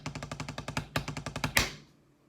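Snare drum playing a slurred sextuplet roll pattern with right-left-left-right-right-left sticking in drum corps style, a steady run of crisp accented strokes with a brief gap before a final louder accent that rings out and decays.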